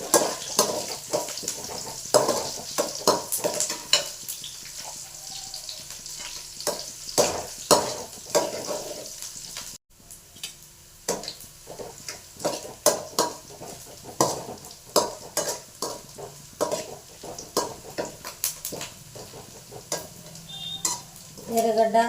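Onions and curry leaves sizzle steadily in a pan while a utensil stirs and scrapes through them in frequent, irregular clinks, close and alone without talk.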